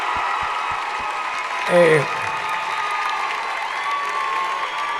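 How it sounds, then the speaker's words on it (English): A large concert crowd applauds and cheers steadily at the Watsco Center, University of Miami. The noise is a dense, even wash, and one voice shouts briefly partway through. "let's give another round of applause"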